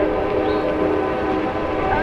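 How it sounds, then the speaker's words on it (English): A train rolls past at close range: a continuous rumbling, rattling drone of rail cars with a sustained horn-like tone layered on top, steady throughout. "Sound like there's a choo-choo train going by."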